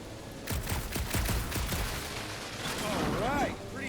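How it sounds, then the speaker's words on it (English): Several sharp gunshots fire in quick succession at a gunked-up reactor in the Guardians of the Galaxy video game, followed by a rising and falling whine as the shots hit. "A couple of shots should bring it down."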